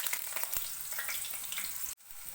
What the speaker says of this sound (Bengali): কড়াইতে তেল দিয়ে দিয়েছি, তেল গরম হয়ে গেছে। এবার আমি আলুগুলোকে ছেড়ে দিচ্ছি।